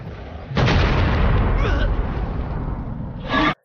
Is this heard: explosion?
yes